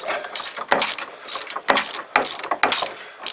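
A ratchet on a long extension tightens the steering coupler bolt on a 1993 Chevy K1500 pickup, giving several close, loud bursts of rapid clicking with short pauses between strokes.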